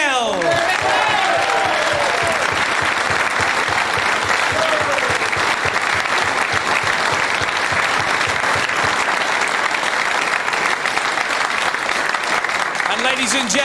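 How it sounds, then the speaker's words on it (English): A crowd applauds the runner-up at the 2007 WEPF World 8-Ball Pool Championship men's final, loud continuous clapping filling the hall with some whoops and chatter mixed in at the start. "a big round of applause first for your runner-up, Mr. Mick"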